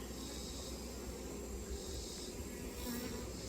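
Dense, steady buzzing of many honeybees swarming around an open beehive during a mite check, a continuous close hum filling the whole stretch with no pauses.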